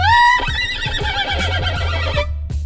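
A violin imitates a horse's neigh: a bright, wavering whinny-like tone that slides down over about two seconds, loud and close, with faint rhythmic percussive taps underneath.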